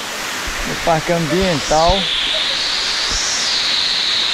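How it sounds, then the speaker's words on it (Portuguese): Bica Grande waterfall in Natuba, a constant broadband rush of falling water heard up close, with someone speaking briefly over it near the start. "essa é a cachoeira da Bica Grande aqui em Natuba"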